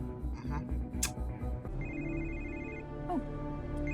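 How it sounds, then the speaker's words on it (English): A phone ringtone plays a bright electronic melody, close and clear, with a voice speaking briefly over the start. "Must change the ringtone."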